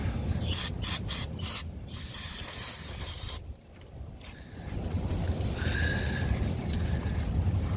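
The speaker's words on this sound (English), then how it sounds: "Use a little bit of brake cleaner." Brake cleaner sprayed from an aerosol can onto the rear differential of a 2006 Ford F-150, several short hissing bursts followed by a longer steady spray, close up.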